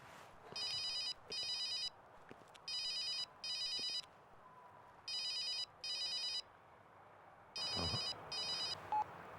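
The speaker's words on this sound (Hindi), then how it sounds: "कोई फोन ही नहीं उठा रहा है।" A telephone rings unanswered in a steady pattern of paired electronic bell trills, four double rings with short pauses between them, moderately loud over a faint room background with no one speaking.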